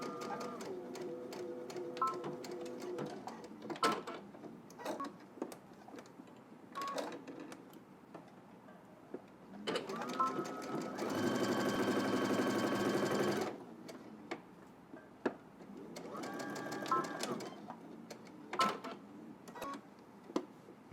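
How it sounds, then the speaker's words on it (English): A home sewing machine stitching the shoulder and side seams of a garment, running in a series of short rattling bursts with pauses between them and one longer steady run in the middle, heard close up. "I will be using my sewing machine to sew this up"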